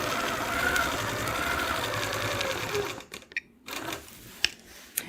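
Sewing machine free-motion stitching around the outside of a quilt block during ruler work, running as a steady close whir for about three seconds, then stopping, followed by a few short bursts of stitching and faint handling sounds.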